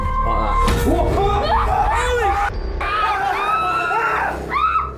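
Members of a paranormal film crew scream in fright as a door opens by itself, several overlapping high, rising shrieks and whimpers close to the mic, sustained over a few seconds with a brief dip in the middle.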